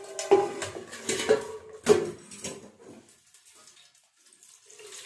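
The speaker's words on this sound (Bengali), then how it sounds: "চিংড়ির মধ্যে জলটা ছেঁকে নেব, নিয়ে এর উপরে একটু ঠান্ডা জল দিয়ে দেব।" Cold tap water poured over freshly boiled chow mein noodles in a kitchen, a few splashing bursts of running water in the first three seconds before it goes quiet.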